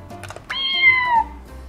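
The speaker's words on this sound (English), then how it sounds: "The cat." A children's learning toy button plays a single clear cat meow lasting under a second, drawn out and falling in pitch, heard close and alone after a brief click.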